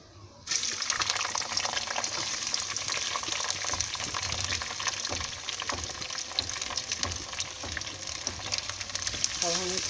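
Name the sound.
onions frying in mustard oil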